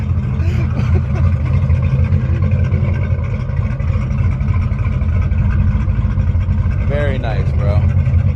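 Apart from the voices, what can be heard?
Ford Mustang Cobra engine running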